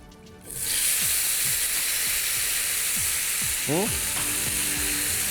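Marinated potato tikka hits hot mustard oil in a pan and bursts into a loud, steady sizzle, with occasional scraping and clicking from stirring.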